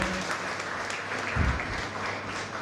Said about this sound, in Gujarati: એમને આપણે તાળીઓના ગડગડાટથી વધાવીએ